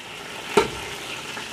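Chopped onions drop into hot oil left from frying chicken, giving a sudden sharp sizzle burst that fades into a soft, steady hiss.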